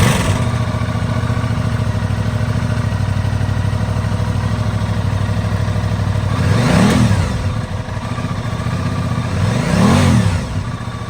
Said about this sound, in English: Let's fire this bike up.